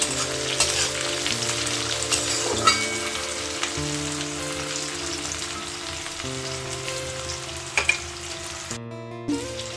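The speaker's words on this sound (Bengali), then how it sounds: "এখানে হচ্ছে পেঁয়াজ আর প্রথমে তো গরম মশলা দিয়েছিলাম তারপরে পেঁয়াজ দিয়েছি আর টমেটো দিয়েছি এগুলো খুব লাল লাল করে ভেজে নেব" Onions and tomatoes fry with garam masala in oil, giving a continuous sizzle with occasional stirring scrapes over a steady tonal background hum, close and even, without speech.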